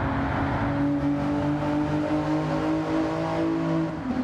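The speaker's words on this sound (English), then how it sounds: "That's a nice sounding V6" A V6 car engine in Gran Turismo 7, heard from outside the car on replay, holds a steady loud drone with layered harmonic tones throughout, shifting slightly near the end.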